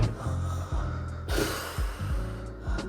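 A person imitates snoring with repeated snorting, gasping inhalations in a rough rhythmic series, about six nasal snorts, close and alone without speech.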